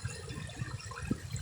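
River water flowing steadily along the Quireno river in Narra, Palawan, a soft continuous wash close to the microphone with no voices.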